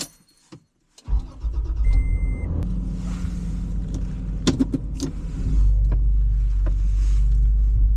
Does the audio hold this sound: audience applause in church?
no